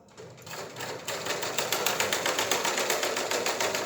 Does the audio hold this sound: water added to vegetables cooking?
no